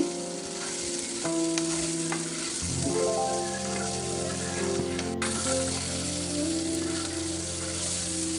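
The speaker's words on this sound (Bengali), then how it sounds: "তো মাছটা ভাজা হয়ে গেছে এখন কুচানো কাঁচা ঝাল দিয়ে দিচ্ছি" Chopped green chillies go into a pan of fried fish, and hot oil sizzles steadily and close up as the mix is stirred, with a few light scraping taps against the pan and no voices.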